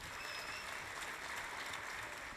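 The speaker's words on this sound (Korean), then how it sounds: "진행자 두 분 박수로 맞이해 주시기 바랍니다." An audience at a Korean political party launch rally applauds steadily to welcome the two hosts, a dense, even wash of clapping that runs throughout at moderate distance.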